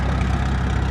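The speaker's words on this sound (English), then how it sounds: "Well, we've got the tractor over there running now." A 1954 Farmall 300 tractor engine idles close by in a steady, low, even rumble, alone and unchanging.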